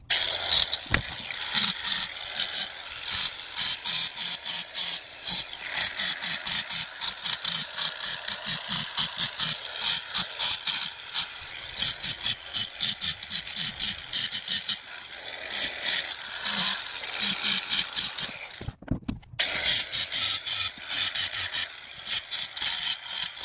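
Lawn mower blades are sharpened with a continuous gritty grinding rasp that pulses rapidly and stays loud and close for most of the clip, cutting out briefly near the end before resuming.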